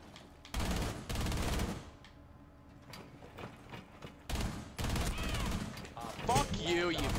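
Bursts of automatic gunfire in Rainbow Six Siege, several loud volleys separated by quieter stretches of game sound and scattered mechanical clicks, with voices talking briefly.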